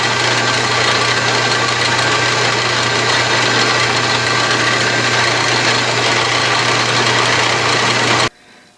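An Atlas/Craftsman 12-inch metal lathe runs steadily while cutting a thread, giving a loud, even motor and gear drone with a constant low hum that cuts off abruptly near the end.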